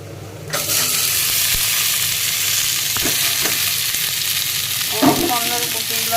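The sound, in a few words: shrimp frying in a pan, to be cooked with taro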